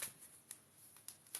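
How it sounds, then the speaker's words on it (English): Tarot moon cards being shuffled, with soft papery riffles and a few brief brushing bursts spaced across a quiet stretch, close but faint, with no talk. "shuffle the moon cards."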